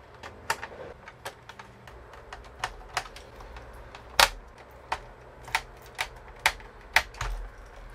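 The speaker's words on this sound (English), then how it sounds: "now let's screw everything back in" Screws being driven back into a Pioneer DDJ-SB DJ controller make a string of sharp, close clicks and ticks at an irregular pace, one louder snap near the middle, with no talking.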